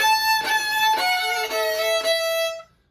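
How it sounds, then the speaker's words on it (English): A violin plays several bowed notes in quick succession with a harsh, grinding, scratchy tone, loud and close, before cutting off into silence. "there is such a thing as too crunchy of a sound"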